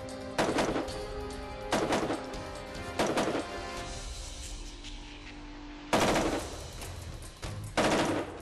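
A SIG516 rifle fires a series of sharp, loud single shots at irregular intervals, each crack followed by a brief echoing tail, with no talk.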